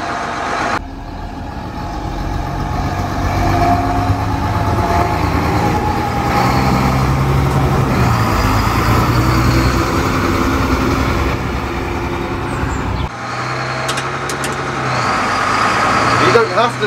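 An AEC Routemaster London double-decker bus on the move, its diesel engine rumbling loud and steady close by, with a brief dip near the end, while a person talks over it.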